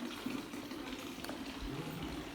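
Water runs steadily from an old courtyard tap that won't close, a constant hissing, splashing flow heard close and fairly quiet.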